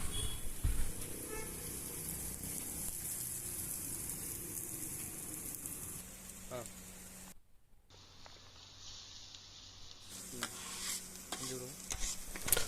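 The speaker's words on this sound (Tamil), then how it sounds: "வெங்காயம் வந்து சூப்பராக வதங்கிட்டுருக்கு" Onions and mint sauté in a pan, with steady sizzling frying and repeated stirring scrapes throughout, close and moderately loud, briefly dropping out before resuming.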